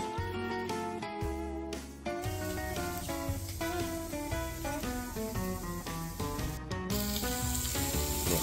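Sausage frying at a morning campsite by a river gives off a faint, steady sizzle running under louder music throughout.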